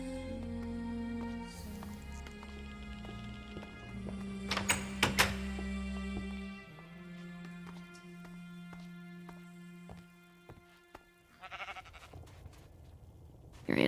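Sheep bleating in Minecraft, a few short game bleats amid clicking block and pipe sounds and steady tones, moderately loud, with no talking over them.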